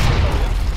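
Heavy booming gunfire from the video game BlackShot, a dense low-end blast filling the whole moment, loud and close with no talk over it.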